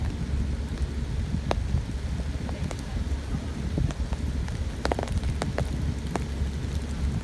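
Steady rain falls on a surface outdoors, a dense even hiss with scattered sharper drop ticks and a low rumbling background, no voices over it.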